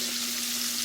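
Chicken leg quarters submerged in hot oil throw off a brief, steady burst of loud bubbling sizzle, with a faint hum running underneath.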